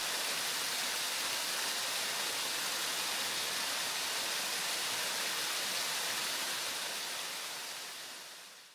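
Waterfall on Deep Creek gives a steady, loud, broadband rushing roar heard alone, holding constant before fading at the end.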